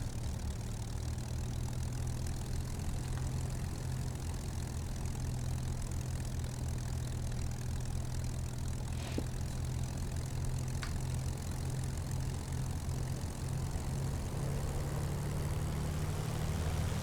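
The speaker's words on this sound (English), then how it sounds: "give the engine a run up" A Hawker Hurricane Mk1 piston engine runs up in Microsoft Flight Simulator, giving a steady, loud, continuous droning roar that holds evenly throughout with no talk over it.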